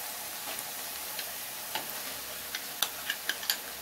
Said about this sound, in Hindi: अब हम इसी में ये पिसा हुआ हरा चना मिला देते हैं